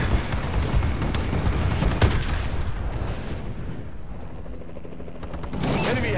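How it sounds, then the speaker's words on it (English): Explosions from an enemy bombing run in a Call of Duty–style shooter, where the Bal-27 rifle is in use: a dense, continuous barrage of booms and gunfire rumbling throughout, loud and sustained with a brief lull before swelling again. "Enemy bombing run incoming."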